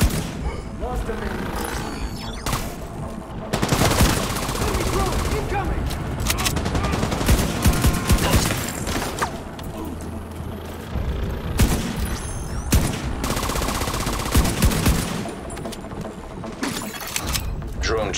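Dense video game combat in The Division, with rapid bursts of automatic gunfire, scattered single shots and mechanical clatter layered continuously under shouted voices.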